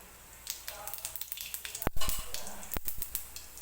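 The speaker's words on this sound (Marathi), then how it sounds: "सुरुवातीला मी अगदी थोडंसं जिरं याच्यामध्ये टाकणार आहे." A small pinch of cumin seeds sizzles in hot oil for a spicy egg curry, with a soft continuous crackle and two sharp clattering knocks from a utensil against the pan partway through.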